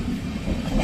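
A clean passenger train coach runs on the rails near Changanassery in Kerala, giving a loud, steady rumble of wheels and carriage noise for a brief moment.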